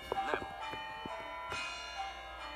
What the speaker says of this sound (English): So that is the sound of the timer going off